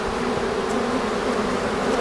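Honeybees hum at a beekeeper's hive near the candy board, a continuous close droning buzz with no talking.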